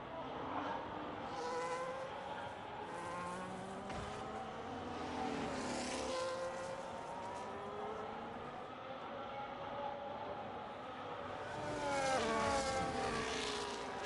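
A race car in the Re-Volt racing video game speeds down the straight. Its engine whines steadily with rising and falling pitch for the whole stretch, swelling louder near the end, with faint talk underneath.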